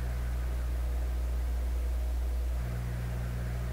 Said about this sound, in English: If I tune the radio, the hum becomes a little more buzzy.